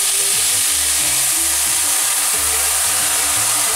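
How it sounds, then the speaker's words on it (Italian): Rice for risotto alla monzese sizzles loudly in the pan as white wine is poured in to deglaze, a dense continuous hiss and crackle with stirring noises underneath. "Sfumiamo col vino bianco."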